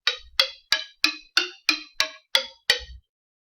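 A homemade xylophone with note blocks nailed onto its frame is struck nine times in a steady, evenly spaced run. Each note is a sharp, bright wooden knock that decays quickly, with no talking over it.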